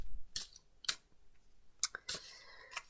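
Tarot cards are shuffled by hand in a few quick, crisp bursts of riffling and snapping, close and fairly quiet, separated by brief pauses.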